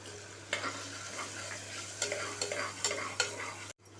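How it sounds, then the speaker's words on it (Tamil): Sambar powder sautéed in hot oil, a soft steady sizzle with scraping stirring strokes against the pan at irregular intervals, close and fairly quiet, no voices. "சாம்பார் தூள் சேர்த்து நல்லா எண்ணெயிலே வதக்கிடுங்க"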